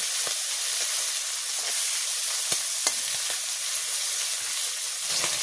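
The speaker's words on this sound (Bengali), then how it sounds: "এই তেলে সব মাছ ভাজি হয়ে যাবে। তো আমি এখন মাথাটা দিয়ে দেবো।" Hilsa fish head frying in hot oil, giving a steady dense sizzle and hiss throughout with a few small pops and crackles, close and fairly loud, with no talking.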